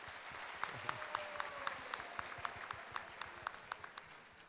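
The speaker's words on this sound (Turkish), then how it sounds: "Bir alkış da Armağan Çağlayan'a lütfen" Studio audience on the Popstar Alaturka competition show applauding judge Armağan Çağlayan, a continuous bed of clapping punctuated by sharp, rhythmic louder claps roughly every third of a second, with low background voices underneath.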